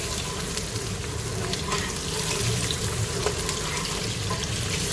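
Onions fry in a pan for chicken aloo gobi salan, giving a steady, dense sizzle throughout with faint stirring sounds and no talking.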